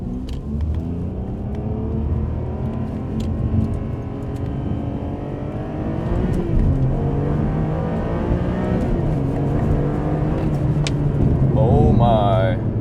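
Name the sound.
Ferrari 575M engine revving with rev matches on downshifts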